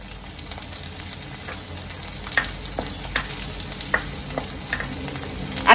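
Green chilies sizzle in hot oil for an Indian-style pasta, a steady close frying hiss broken by scattered sharp pops and crackles, with no voices.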